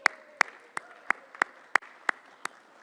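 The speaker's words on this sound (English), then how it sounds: "Well-deserved applause for Ann." A single person claps slowly and evenly, about eight sharp claps at a steady rhythm, at a celebration event marking a late Maryland governor's 100th birthday, with quiet room tone between claps.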